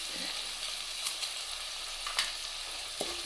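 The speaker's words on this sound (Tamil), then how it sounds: "நல்லா வதக்கிடலாங்க." Onions sautéing in a pan while making a fish dish, a steady soft sizzle with a few light clicks of stirring, quiet and close throughout.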